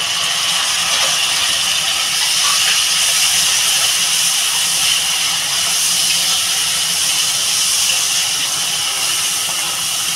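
Fried tomato goes into a hot pan for a Bengali chela fish curry, giving a loud, continuous hissing sizzle that holds steady throughout, with no talk.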